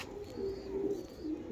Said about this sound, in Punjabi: ਇਹ ਦੇਖੋ ਕਬੂਤਰ